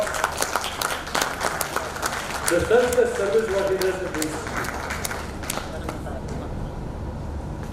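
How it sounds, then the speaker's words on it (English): Applause rises from the audience at a Rotary Club installation ceremony in Nagpur, a broad wash of clapping mixed with someone speaking over it that fades toward the end. "And one round of applause for"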